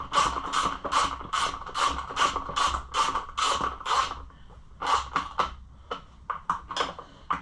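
Ratchet tightening bolts on a Kawasaki motorcycle, close rapid bursts of clicking in regular strokes, pausing briefly before a few shorter, quicker clicks near the end, with no talking.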